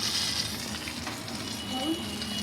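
Chopped bottle gourd goes into a hot pan with cumin, giving a steady, close sizzle and some faint stirring. No one speaks.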